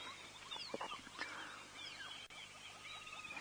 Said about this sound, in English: It's 2 little cardinal woodpeckers.